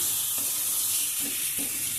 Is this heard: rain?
no